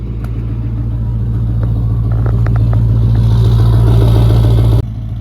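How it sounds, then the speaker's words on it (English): A big Duramax diesel truck engine idles just after a cold start with a deep, steady rumble and clattering knock, swelling slightly louder before a sudden drop near the end. "We should have a pretty good cold start."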